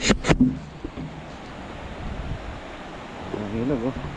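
River water washes steadily beneath a small boat on a river in Ormoc, Leyte, a soft broadband rush with wind buffeting the microphone and brief voices at the start and end.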